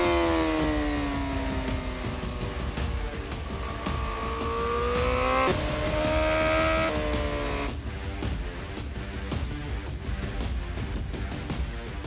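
A 2020 Honda CBR1000RR-R Fireblade SP engine whines as it accelerates toward top speed, pitch climbing through several gear shifts, loud and steady with wind noise.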